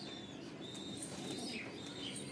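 Pigeons coo in a low, continuous murmur at a pigeon sale in Latur, with high chirps and tweets from other birds scattered above it; no one speaks.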